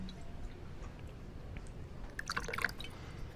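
Water pouring into a glass in Resident Evil 6, a faint, brief splashing trickle of drips arriving after a quiet stretch.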